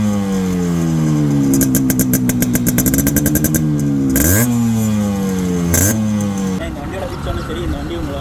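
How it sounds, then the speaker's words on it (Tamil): A restored, lowered, green Yamaha RX100 two-stroke motorcycle revs up close and loud, its engine note climbing and falling through repeated throttle blips before settling back toward a rough idle. "ஸோ இப்போ இந்த வண்டியோட பீட் சவுண்டு கேட்கலாம் வாங்க."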